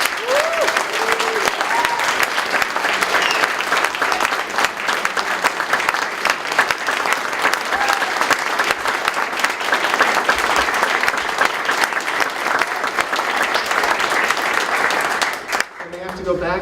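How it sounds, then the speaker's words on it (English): Sustained applause from a crowd at a healthcare rally, dense and continuous clapping heard close by for the full length, ending with a brief drop near the close. "So please give them an applause for their incredible hard work."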